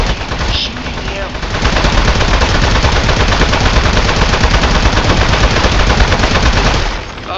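Rapid automatic gunfire from shooting a boss in the video game Aperture Desk Job, a loud, dense, continuous burst of shots lasting several seconds.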